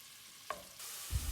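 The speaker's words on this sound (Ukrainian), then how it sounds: "Перемішуючи, смажимо 7 хвилин, розбиваючи грудочки." Chicken and pork mince fries in oil in a pan while being stirred, a soft sizzle with a couple of brief scraping stirs, close and fairly quiet.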